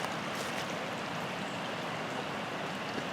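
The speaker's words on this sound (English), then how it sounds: "And then the little waterfall. There's some more coming through there." A small waterfall and creek running high after rain give a steady, close rushing of water with no breaks or voices throughout.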